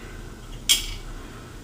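A jar lid twisted open with a rag, heard as a single sharp click or pop midway, brief and close against a quiet room.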